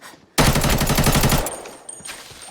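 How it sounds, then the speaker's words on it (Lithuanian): A bot in a shooter video game fires a loud, rapid burst of automatic gunfire lasting about a second, followed by fainter distant shots and room noise. "tiesiog botas į orą šaudo"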